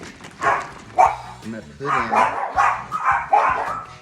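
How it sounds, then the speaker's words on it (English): Dogs bark in short bursts in a home kitchen during cooking, several sharp yaps spread across the moment and mixed in with a person talking over them. "once you get the dogs to stop barking during your video"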